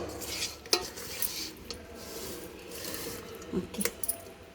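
Lemon tossed and stirred through food in a pan, soft scraping and stirring with a quiet sizzle underneath and a few light metallic clinks of a spoon against the pan.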